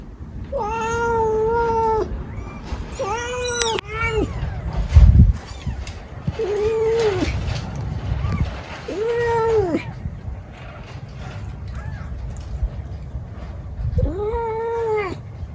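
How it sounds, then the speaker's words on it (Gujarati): A cat meows repeatedly in drawn-out, wavering cries with short pauses between them, loud and close, over low outdoor background noise on a farm. "તો ફ્રેન્ડ આપણે મીંદડીને દૂધ દેવાનું છે."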